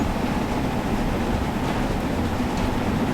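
A British Railways Fowler 4F steam locomotive runs on the foggy Buxton branch near Peak Forest, heard from on board as a steady, loud broadband rumble and roar with no distinct beats or voices.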